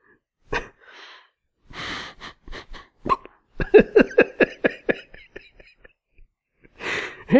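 A man's hiccups break up an otherwise quiet indoor recording, several short jerky gulps scattered between bursts of quiet speech and breathing, close to the microphone.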